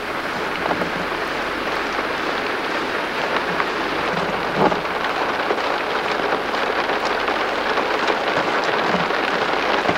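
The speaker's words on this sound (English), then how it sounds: "It's raining so hard I'm having to put the windscreen wipers on so I can see anything at all." Heavy rain pours steadily, a dense even hiss with no pauses, close and loud, with no voices.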